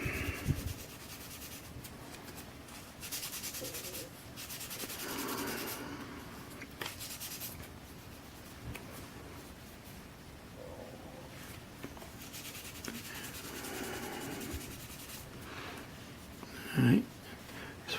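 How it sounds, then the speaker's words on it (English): Quiet, intermittent hand sanding of a model part, short scratchy rubbing strokes with pauses between them and a brief louder knock near the end. "Just slightly sanding over it"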